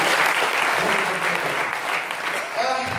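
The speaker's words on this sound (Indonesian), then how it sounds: "Tepuk tangan dulu untuk kalian ya." A burst of enthusiastic clapping from a sizable crowd, loud and steady, tapering slightly toward the end.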